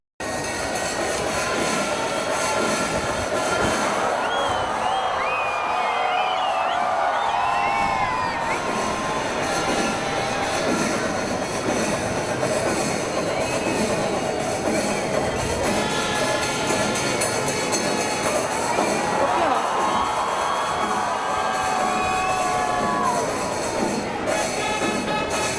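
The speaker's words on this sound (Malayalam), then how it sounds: "നട തുറന്ന് പുറത്തു കടന്ന കൊമ്പൻ 3 വട്ടം തുമ്പിക്കൈ ഉയർത്തി അഭിവാദ്യം നൽകിയതോടെ മുഴങ്ങിക്കെട്ടത് ജനക്കൂട്ടത്തിന്റെ ആർപ്പുവിളികളായിരുന്നു" Large crowd cheering and shouting at a Kerala temple festival as a tusker emerges, loud and continuous, with swelling waves of cheers and high calls over a dense roar.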